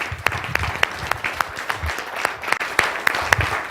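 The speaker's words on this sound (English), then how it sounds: "Give him a round of applause again." An audience at a business seminar gives a round of applause, sparse individual claps ringing out distinctly over a murmuring room with some talk underneath.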